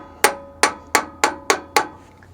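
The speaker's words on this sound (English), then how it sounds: "Anytime you're clanking two hammers together" Two hammers strike each other during brake work on a Freightliner FLD truck, six sharp metallic clanks at a steady, slightly quickening rhythm, close and clear, with no talk.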